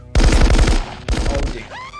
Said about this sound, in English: They're shooting in the air.